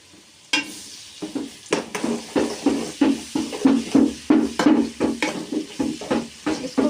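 Ginger-garlic paste frying with golden onions in a pot for Kashmiri chicken pulao, heard as a steady sizzle broken by a quick series of rhythmic stirring scrapes, close and fairly loud, with no talking.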